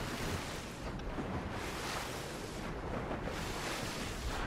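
Rushing water in Fortnite, a steady, dense wash of noise with slow surging swells, loud and close, with no talk over it.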